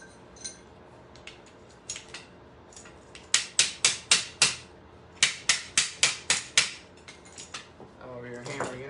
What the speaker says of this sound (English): I'm over here hammering it in.